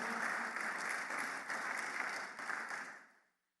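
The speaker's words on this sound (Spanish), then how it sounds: "Déselo al Señor ese aplauso, por favor." A church congregation gives sustained applause, a dense crowd of clapping that holds steady, then fades away in the last half second.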